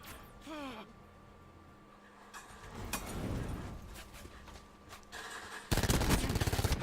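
Gunfire in a Call of Duty video game: muffled shots and scattered noise build up, then a loud, rapid automatic burst breaks out near the end and keeps going.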